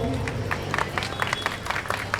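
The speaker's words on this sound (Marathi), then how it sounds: "या वहिनीसाठी जोरदार टाळ्या वाजवा सर्वांनी" Crowd applause breaks out at a community Ambedkar Jayanti celebration in Virar, with dense, rapid clapping from many hands holding steady over a low murmur.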